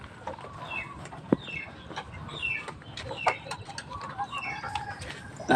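Hens cluck in a farmyard where they are laying eggs, with a rooster-like call among them: scattered short clucks and chirps over steady background noise, with a sharper sound near the middle and another at the end.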